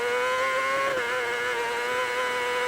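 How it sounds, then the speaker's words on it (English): A 600cc race motorcycle at the Isle of Man TT holds steady high revs over a bumpy road, the engine's dense whine wavering slightly as the bike vibrates, loud and continuous. "you hear the vibration of the bike here on the revs as we go over these bumps"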